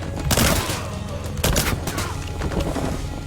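Gunfire from the video game Scarlet Shell: a dense burst of rapid shots opens the stretch, a second volley follows midway, then scattered lighter shots trail off, all loud and close with no talk.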